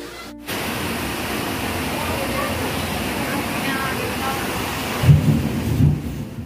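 Steady heavy rain with a deep rumble of thunder running through it. It begins suddenly after a brief quiet moment, and a louder low crash of thunder breaks out near the end.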